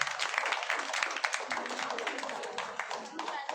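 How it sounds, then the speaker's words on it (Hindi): An audience applauds Priya at a Saksham foundation-day event in Shahbad Dairy, a steady stretch of dense clapping that holds at a fairly even level for several seconds. "एक बार प्रिया के लिए ताली।"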